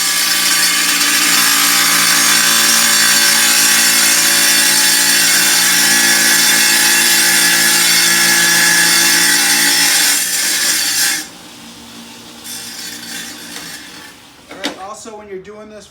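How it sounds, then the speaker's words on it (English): A Ryobi wet tile saw whines loudly and steadily as it cuts through tile, then the blade drops away after about eleven seconds and the motor spins down, leaving quieter clatter and a brief voice near the end. "let the saw do the cutting, don't push real hard"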